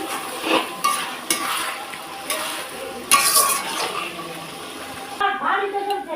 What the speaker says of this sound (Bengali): এখন কষানোর সময় তো ভালোভাবে মশলাটা কষাতে কষাতে দেখো দুটোর মতো টমেটো রেখেছি টমেটোগুলো দিয়ে দিচ্ছি